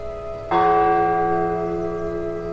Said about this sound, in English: the clock chimes